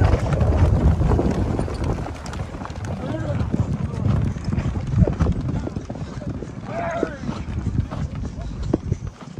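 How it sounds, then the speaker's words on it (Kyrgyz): Hooves pound steadily through a mounted ulak game on a brown horse near Bishkek, a rough, continuous galloping thud under wind buffeting and shouting riders and spectators. "Күрөң ат менен чаап жүрөт."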